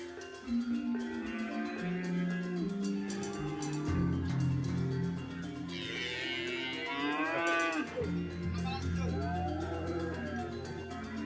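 Cattle moo loudly and repeatedly at a busy livestock market in Yogyakarta that holds around a thousand cows and hundreds of sheep, with long drawn-out calls overlapping against a steady crowd murmur.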